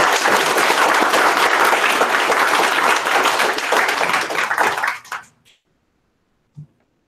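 A meetup audience at a PHP Q&A with Taylor Otwell gives a round of applause, dense clapping for about five seconds that tapers off and stops, followed by silence and one brief soft knock.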